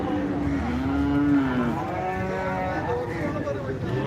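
A buffalo at a livestock market lets out a long, loud, drawn-out moo up close while a busy crowd murmurs in the background.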